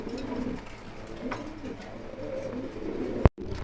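Farm pigeons being offered for sale give soft, low cooing. The coos are steady and fairly faint against a murmuring room background, with a sharp knock near the end.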